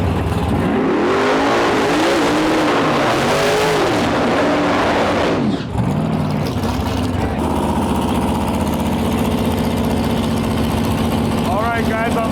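Big-block supercharged Plymouth Satellite and a Firebird at a no-prep drag race: loud, close engines rev and bark in rising, falling bursts, then a hard launch roars away into a sustained engine wail, with a commentator talking over it.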